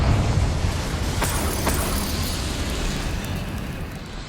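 A Confringo blast spell fired in Hogwarts Legacy: a loud, broad explosive roar that hits at once and rumbles on steadily, slowly fading over several seconds, with no talking.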